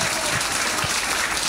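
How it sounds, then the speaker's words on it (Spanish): Dense, loud applause from an audience at a Noche de San Juan celebration in Chiloé, a continuous wash of many hands clapping with no break. "Eso es el aplauso cariñoso para las copuchentas"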